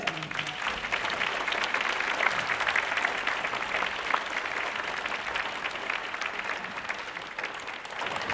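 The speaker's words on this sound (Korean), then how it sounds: "우리 진주 관악단님께 다시 한번 큰 박수 부탁드립니다." At a regular concert by the Jinju Wind Orchestra, a hall audience applauds after a clarinet performance, dense even clapping sustained for about eight seconds with no speech.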